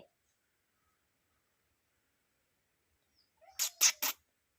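A cat gives a few short meows close by, three quick bright calls in a row after a long near-silent stretch, in a quiet indoor setting.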